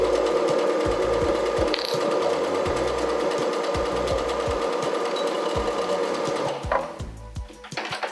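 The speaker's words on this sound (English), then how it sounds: "pull the thread over and stitch the rest of the seam" A domestic sewing machine stitches the rest of a dressmaking seam, a steady close, loud mechanical whirr with rapid needle ticking that runs continuously and then shifts and slows near the end.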